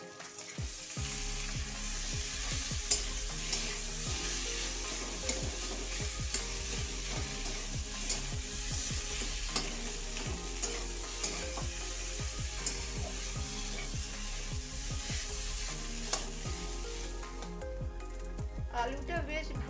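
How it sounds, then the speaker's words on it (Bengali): Potatoes fry in a kadai for a potato and egg curry, giving a loud, close, steady sizzle that runs throughout with repeated stirring scrapes, and faint tonal background sound underneath. "এই আলুগুলোকে এবার ভালো করে লাল লাল করে ভেজে নেব"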